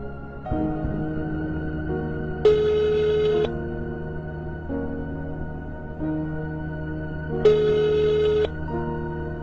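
A telephone rings in repeated electronic bursts, each with a brighter high tone partway through, loud and steady over about nine seconds with no voices.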